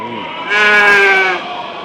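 A sheep at a Saturday livestock market in Angallu lets out one loud, close bleat lasting just under a second, set against low background murmur.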